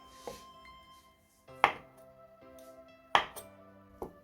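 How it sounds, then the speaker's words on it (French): A knife halves straw mushrooms lengthwise on a cutting board, four crisp chops spaced about a second apart, close and clear with quiet between strokes and no talking. "Je coupe en deux les champignons de paille sur sa longueur."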